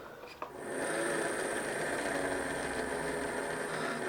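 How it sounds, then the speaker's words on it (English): A cheap recycled eBay DC gearmotor spins up at about 3 volts on a bench supply, starting with a click and then settling into a steady, high-pitched mechanical whine with gear chatter, close and continuous. "So that's around about 3 volts that this motor starts."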